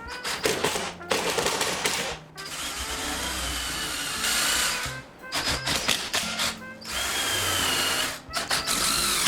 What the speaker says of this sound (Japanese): もう先端がドリルになっているネジで留めていきます。